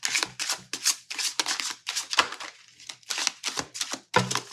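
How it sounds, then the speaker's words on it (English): Tarot cards shuffled close up, a run of about a dozen quick papery riffles and slaps in an uneven rhythm, crisp and fairly quiet, with no talking. "we have a nice shuffle on these"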